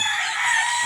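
A rooster crows in the background, one short strained call, fairly loud and harsh, heard alone without talk.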